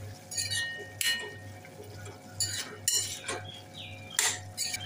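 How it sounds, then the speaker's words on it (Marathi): A spoon scrapes and clinks against a pan while grated fresh coconut is mixed into ridge gourd curry, several distinct metallic strokes in quick succession with no talking. "किसलेलं ओलं खोबरं घालूया, मिक्स करून घेऊया"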